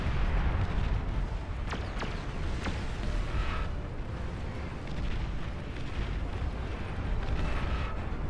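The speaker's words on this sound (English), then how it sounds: "Long range indirect fire shotgun." Heavy artillery bursts from a Legion superweapon in the Beyond All Reason strategy game: several sharp booms over a dense, roaring battle din, with repeated impacts piling up loudly throughout.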